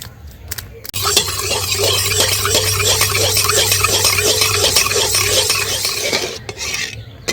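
A spoon stirs milk powder into half a bowl of water in a pan, a steady scraping swirl that runs for several seconds, close and fairly loud, with a low hum underneath.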